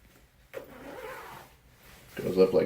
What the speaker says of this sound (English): zips up down the middle